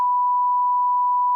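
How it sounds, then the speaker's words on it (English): A GoXLR bleep button gives a loud, steady pure-tone beep that holds unbroken for over a second and cuts off cleanly at both ends. "hear a beep. Sorry for that loud noise"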